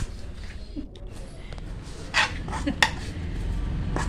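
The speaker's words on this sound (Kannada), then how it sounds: "ಮುದ್ದೆನ ಒಂದು ಚಮಚ ತಗೊಂಡು ಅಲ್ಲಾಡ್ಸೋದು ಸೌಟ್ ತಗೊಂಡು" Ragi mudde being stirred in a pot with a ladle, a few clinks and scrapes of metal against the pot over a steady low background rumble.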